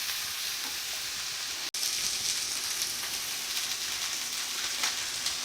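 Steak bites sear in a hot pan for a medium-rare cook, giving a steady close frying sizzle with crackling spatter throughout and a brief dropout partway.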